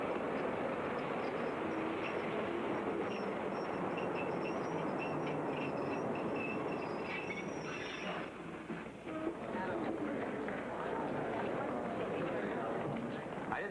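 A subway train arrives at a station in a Mike Hammer radio drama, a continuous rushing roar at moderate distance that dips briefly near the end, with talk over it.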